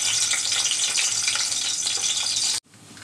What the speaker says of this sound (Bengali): পরিমাণ মতো তেল দিয়ে দিচ্ছি, সয়াবিন তেল দিচ্ছি, রসুন আর পেঁয়াজ কুচি